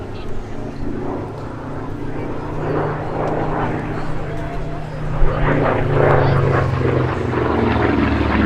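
A P-36C and a P-40F Warhawk propeller fighter fly at the Duxford D-Day airshow in 2024. A steady, droning propeller engine roar builds louder as one plane climbs, with a commentator's voice running over it.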